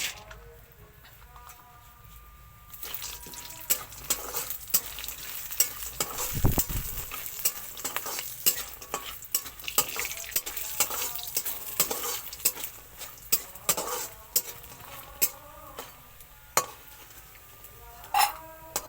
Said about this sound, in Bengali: আবার তেল দিলাম, বড়িটা ভেজে নেবো।